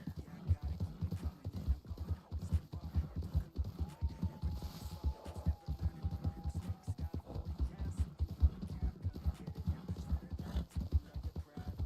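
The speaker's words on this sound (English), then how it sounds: "I heard a second thing of hoofs" Horse hooves clip-clop steadily through a video game scene, a dense rhythmic patter of footfalls at moderate loudness, with brief voice-like sounds mixed into the busy background.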